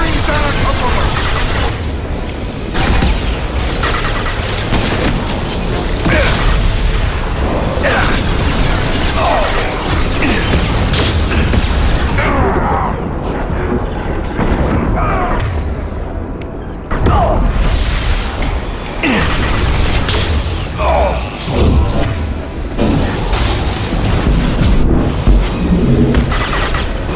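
Dense, loud combat in Mass Effect 2: repeated gunfire bursts and heavy explosions pound continuously for almost half a minute, with brief lulls, and voices call out in the mix.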